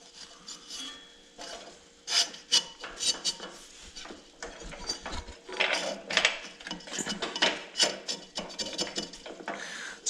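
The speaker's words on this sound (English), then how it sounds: "Now let's see if I can get it off the transmission pulley." Drive belt being worked off the transmission pulley of a John Deere GX75 mower: close, irregular scraping, rubbing and metallic clinks in uneven bursts, with no talk.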